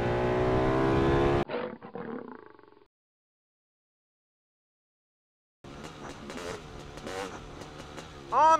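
A Honda CR500 two-stroke dirt bike engine runs loud and close, then cuts off and fades into silence before a different rough, uneven engine-like sound returns.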